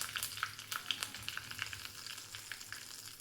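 Curry leaves hitting hot oil with sesame seeds during a tempering, giving a close, steady crackling sputter with sharp pops scattered throughout and no voices.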